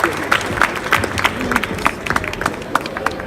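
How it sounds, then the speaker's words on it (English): Audience applause at a Power Rangers Megaforce comic con panel in Liverpool, a short burst of scattered, uneven claps from a modest crowd in a hall, with faint voices underneath. "Give a big round of applause for Jacob."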